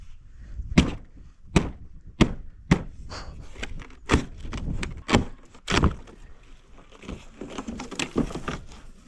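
Heavy wooden thuds strike one after another at irregular intervals, a very dull axe chopping into wood, with some quieter knocks and rustling between.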